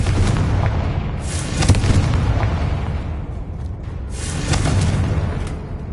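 Confringo blasting spell explosions in Hogwarts Legacy on PS5, a roaring, booming blast that swells twice over a rumbling bed of noise, loud and sustained without speech.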